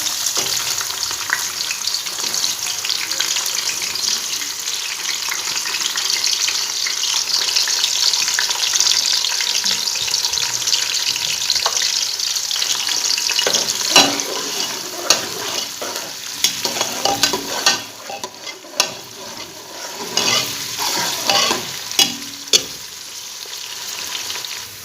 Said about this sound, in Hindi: हम इसमें ये प्याज डाल देंगे।